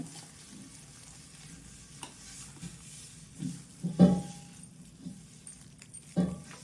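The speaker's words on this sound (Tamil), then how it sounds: "இப்போ தாளிச்சதை கொட்டி கிண்டி விடுறேன்" Fried tempering being stirred into a pot of ven pongal, quiet scraping and stirring with a faint sizzle, punctuated by a few louder clanks of spoon against the vessel.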